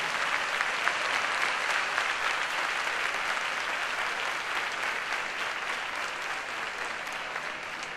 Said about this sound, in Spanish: Venga, fuerte el aplauso y que se oiga.